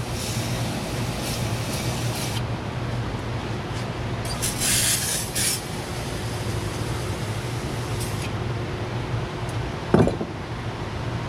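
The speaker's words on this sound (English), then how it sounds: "just take some brake clean and spray the filter and the drain plug area down to get all the residue off." Brake cleaner sprays from an aerosol can onto the oil filter and drain plug area of a Honda S2000 during an oil change, producing short hissing bursts over a steady background hum of the shop, with a sharp clank near the end.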